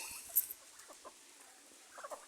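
Faint, short clucking calls from a turkey come in scattered bursts against a quiet, hissy background.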